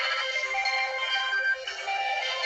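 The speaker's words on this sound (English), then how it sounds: "That was my phone." A mobile phone ringtone plays loud and close, a bright electronic melody of sustained tones running for the whole clip with a short break midway, with no voices over it.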